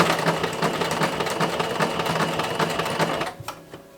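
A sewing machine runs a zigzag stitch on fabric for an 1890s chemise, drawers and petticoat set, its rapid needle clatter steady and close for about three seconds before it slows and stops.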